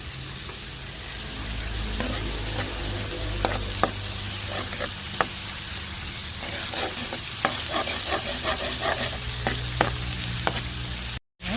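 Bitter gourd stir-fried with tomato, shrimp paste and egg in a home kitchen pan, a steady loud sizzle with repeated scraping stirs and clacks of the spatula throughout, no talking.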